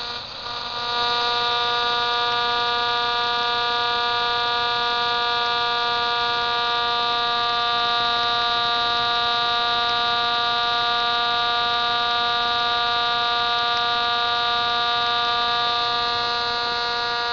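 A spinning magnet top driven by a simple one-coil circuit powered from a 5 farad supercapacitor gives a steady, continuous electrical hum with a bright high whine, holding constant and alone throughout.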